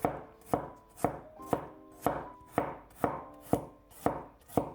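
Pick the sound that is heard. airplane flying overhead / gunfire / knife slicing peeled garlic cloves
knife slicing peeled garlic cloves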